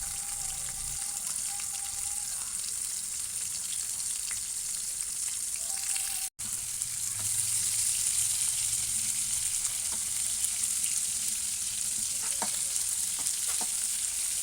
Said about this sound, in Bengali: কড়াইতে সামান্য পরিমাণ তেল দিয়েছি। চিংড়ি মাছগুলোকে ভেজে নেব।